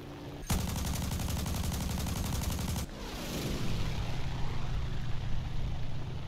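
Minengeschoss cannon shells bursting in the air in a combat flight video game, a rapid dense stream of cannon fire that cuts off abruptly, followed by a steady aircraft engine drone with scattered distant pops.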